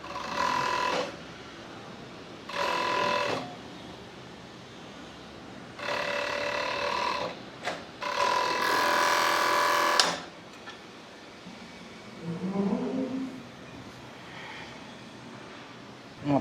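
A sewing machine stitches t-shirt sleeves in a garment workshop, running in several short whirring bursts separated by brief pauses, fairly close and with no talk over it.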